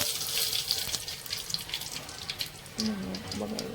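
Dry red chilies drop into hot oil already tempered with mustard seeds, cumin and asafoetida for khichdi, producing a continuous close hiss that swells and shifts near the end.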